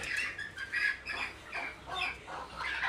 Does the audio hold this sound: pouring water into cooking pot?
no